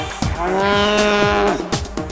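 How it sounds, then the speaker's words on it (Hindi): A single long cow moo, loud and close, held steady for about a second and a half and then trailing off, with light background noise and no speech. "गाय भैंस रंभाती है,"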